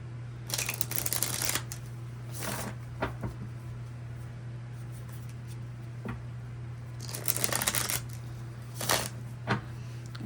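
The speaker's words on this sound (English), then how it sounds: "couple more shuffles" Several bursts of tarot card shuffling, quick riffles separated by pauses, fairly close, with a steady low hum underneath and no talking.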